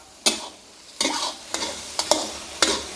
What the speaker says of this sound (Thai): ขั้นตอนนี้ผัดให้หอมสุกก่อนนะครับ